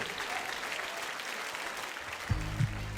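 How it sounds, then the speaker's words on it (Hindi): Steady, full applause from a crowd fills the whole stretch, with a couple of brief tonal bleeps near the end. "जोरदार तालियां"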